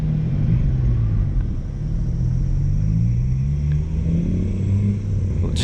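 A BMW E90 car engine drones steadily while cruising, a loud continuous low rumble with slowly shifting pitch and road noise throughout, close and alone with no voices.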